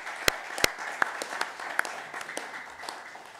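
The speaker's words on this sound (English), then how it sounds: "welcome her with a round of applause" Scattered claps from a small group, a few sharp loud ones up front then lighter, uneven clapping trailing off over a few seconds.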